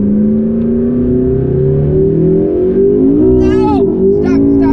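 McLaren sports car engine rising steadily in pitch as it accelerates, a continuous close in-cabin drone with brief shifts near the end, while people talk over it.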